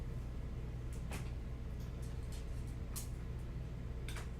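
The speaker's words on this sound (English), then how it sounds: "I'm going to give my paint a spritz, and then I'm going to spray my canvas just once." A hand spray bottle mists water over acrylic and watercolor paint and a canvas, giving three short, crisp hissing spritzes spaced apart over a steady low room hum.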